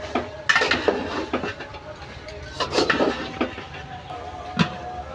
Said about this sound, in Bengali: কেটে সেদ্ধ করে রাখা কচু দিয়ে দেবো কচু দিয়ে ভালো মতো আর একবার কষিয়ে নেব